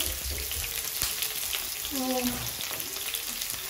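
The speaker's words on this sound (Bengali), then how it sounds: "তেলটা গরম হয়ে গেছে, আমি পেঁয়াজ দিলাম।" Onions hitting very hot oil for a Sylheti yakhni pulao set off a steady, close sizzling frying hiss that runs through the whole stretch, with faint kitchen clatter and a brief tonal squeak midway.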